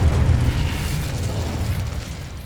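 A fire spell cast in the Hogwarts Legacy video game, a heavy low whooshing burst of flame that swells at the start and then rumbles steadily before easing off, with no talk over it.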